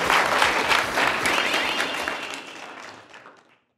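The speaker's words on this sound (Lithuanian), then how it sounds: "palaikom jį plojimais." An audience applauds loudly at first, then the clapping gradually thins and fades out to silence.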